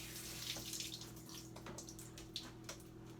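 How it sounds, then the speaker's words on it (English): A filtered tap streams over almonds in a kitchen strainer, giving a constant gentle splash with small irregular drips and spatters, quiet and close, with no voices. "I dump all the almonds in the strainer. I rinse them off with filtered water."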